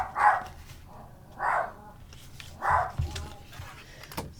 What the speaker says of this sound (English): He's going to bark when he hears people outside.